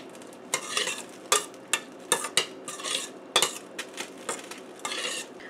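Finely chopped onion, about two medium onions, sautés in a pan with steady sizzling. Repeated sharp spatula scrapes and clinks stand out in an irregular rhythm, close and fairly loud, with no talking.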